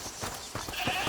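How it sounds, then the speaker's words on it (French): A goat bleating in the video game A Plague Tale Requiem, a few wavering nasal bleats in quick succession, close and moderately loud over a soft ambient background, with no talk. "c'est la chèvre du monsieur"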